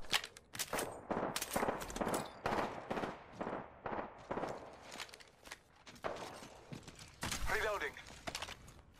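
Bursts of automatic gunfire in Apex Legends come in repeated sharp volleys with short pauses between them, mixed with footsteps, while game character voices speak over parts of the action.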